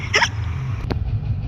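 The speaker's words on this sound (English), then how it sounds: "Oh no, Freddy got the hiccups back." A cartoon character hiccups once, a single sharp loud hic standing alone over a low steady background hum.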